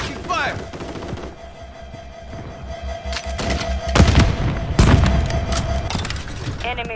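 Video game gunfire in Call of Duty: Modern Warfare III, Domination on the Rust map, with bursts of automatic fire and heavy impacts mixed under in-game voice callouts.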